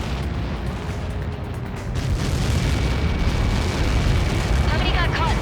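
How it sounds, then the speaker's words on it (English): A massive in-game explosion in the combat flight game Ace Combat 7 gives a loud, sustained roaring rumble that swells partway through and keeps thundering, with faint radio-style voices mixed in. "How many got caught in that explosion?"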